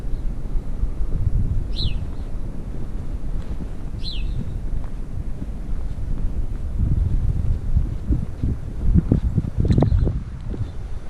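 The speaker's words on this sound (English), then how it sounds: "Birds are chirping." Small birds chirp outdoors in early spring near an ocean-side property, two brief clear calls early on and faint calls later, over steady wind noise and low rumbling.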